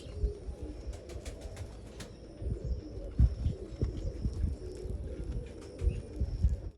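Babe Punnu breed female pigeons coo in soft, low, repeated calls at close range, with occasional bird chirps and faint wing flutters over a constant background hum.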